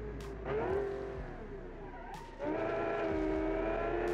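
A 1970 Italian coupe's engine pulls hard on a test drive, revving up steadily, easing briefly, then surging again into a loud, sustained close-up drone with faint tire noise.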